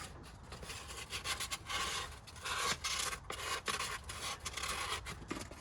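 Fine sandpaper rubs rust off the cylinder walls of a 1958 Plymouth engine, a quiet, steady rasping scrape in uneven back-and-forth strokes.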